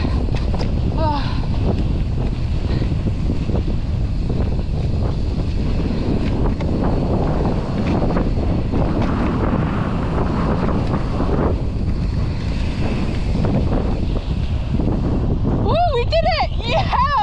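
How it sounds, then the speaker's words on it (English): Strong wind on a mountain bike trail roars and buffets the microphone continuously, a heavy rumbling gust noise throughout. "Oh, it's so windy."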